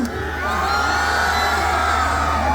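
A large concert crowd at Birat Expo 2025–26 in Biratnagar, Nepal, roars continuously, with layered whoops and yells rising into a sustained, dense wall of cheering.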